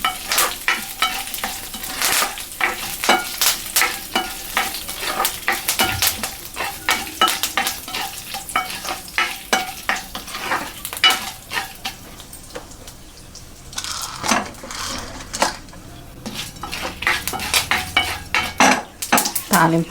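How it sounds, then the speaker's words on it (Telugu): Mustard seeds and curry leaves crackle and sizzle in hot oil as tempering for coconut chutney, with sharp popping bursts and a metal spoon stirring and clinking against the pan. "కొబ్బరి చట్నీకి కొంచెం తాలింపు అయితే పెట్టేస్తాను"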